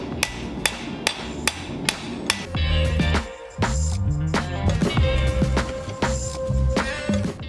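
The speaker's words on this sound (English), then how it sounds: "you're forging the straight side" A hammer strikes a knife blade on an anvil while forging its straight side, evenly spaced sharp metallic blows at first, then a quicker ringing series of hits with clanging overtones, close and loud.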